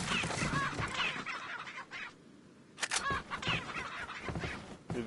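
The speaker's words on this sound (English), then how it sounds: "these chickens are gonna get me killed" Chickens cluck in the Resident Evil 4 game, a string of close, choppy bursts with a brief lull in the middle, set against game noise and no talk.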